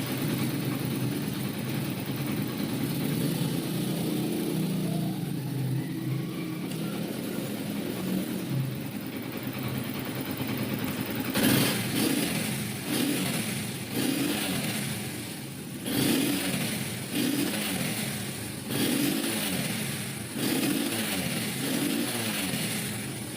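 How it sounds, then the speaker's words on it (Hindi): A motorcycle engine idles steadily, then revs repeatedly up to full RPM in a series of rising and falling bursts, close and loud, with no talking. "तो ये हमने बाइक को स्टार्ट कर लिया है।"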